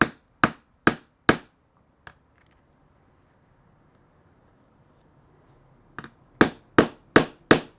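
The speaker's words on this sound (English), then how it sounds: "And the hammer straight down." Sharp metallic hammer strikes on a rivet setter while riveting a handbag: four quick blows, a pause of near silence, then another run of five evenly spaced hits, close and loud.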